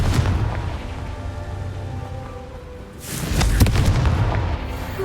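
A Confringo spell explosion in a wizarding video game bursts with a broadband boom near the start and a second, louder blast about three seconds in, a deep rumbling roar with crackling debris, no voices.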